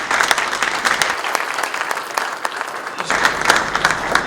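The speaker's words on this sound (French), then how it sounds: "On peut applaudir." Steady, dense applause from a crowd at a public event in Kolwezi, Lualaba, sustained clapping rising and easing slightly over a few seconds with no voices over it.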